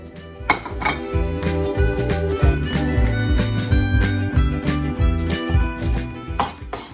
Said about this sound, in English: time to get this bacon chopped up.